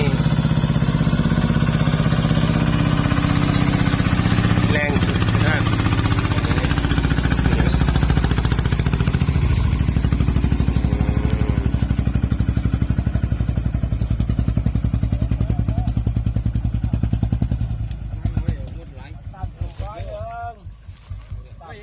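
A Kubota ZT 15.5 single-cylinder engine powers a farm vehicle with its rear wheels sunk, chugging loudly and steadily in a rapid thumping rhythm close by, then easing off near the end while people talk.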